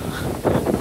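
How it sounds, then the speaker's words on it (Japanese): Strong wind gusts at an empty amusement park in Wakayama, a loud, close, rumbling buffet of air on the microphone that swells briefly during the short stretch. "風が強い。 強風に注意です。"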